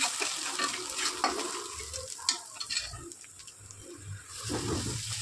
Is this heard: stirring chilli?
yes